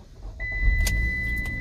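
A car with a check-engine light fault starts up in a driveway and settles into a low, steady idle rumble close by, with a thin steady electronic tone running above it.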